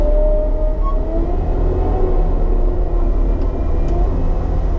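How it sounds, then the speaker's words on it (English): A skid steer engine rumbles steadily and revs as the gas pedal is pressed, a loud, close, continuous drone. "when I hit the gas pedal, I can control the rev, which is really nice"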